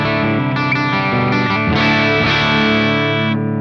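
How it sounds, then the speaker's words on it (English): A budget metal electric guitar on its bridge pickup rings through a clean channel with chorus-like shimmer, sustained chords blending and shifting continuously for several seconds without a break. "let's go to a clean channel here and check out the pickups"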